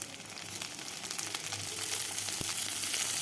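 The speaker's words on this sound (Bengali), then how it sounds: "আলুটাকে বেশ কিছুক্ষণ সময় ভেজে নেব।" Potato pieces fry in hot oil in a pan for a tangra fish curry, making a steady crackling sizzle close up that grows slightly louder, with a brief stirring clink.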